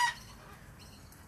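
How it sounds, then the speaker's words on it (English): A chicken gives one short, close cluck at the very start, followed by a low, steady background hum with no further calls. "that is actually my chicken there"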